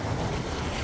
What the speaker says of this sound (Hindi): इधर पानी का बहाव देख रहे हैं, कितना स्वच्छ निर्मल पानी होगा